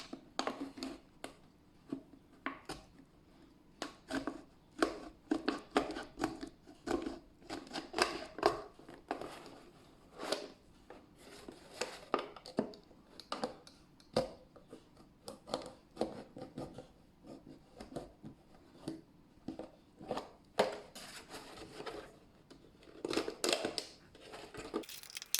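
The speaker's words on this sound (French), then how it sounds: "Voilà, donc j'ai coupé ma petite bouteille" A plastic bottle is cut by hand, giving faint, irregular crunching and rasping snips with short pauses between them in a quiet room.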